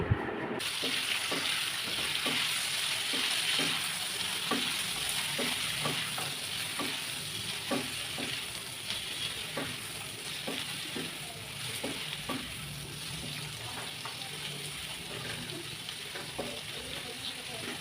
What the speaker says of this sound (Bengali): তরকারিগুলোকে দিয়েও কিছুক্ষণ ভালো করে ভেজে নেব।